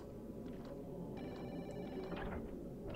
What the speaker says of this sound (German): Geh ans Telefon.